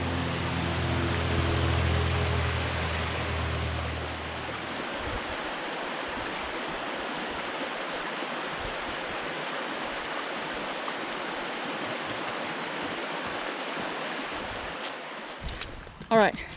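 A flowing creek in Smithgall Woods State Park rushes in a steady broadband wash, close and continuous throughout, with a brief low rumble at the start and a handling bump near the end.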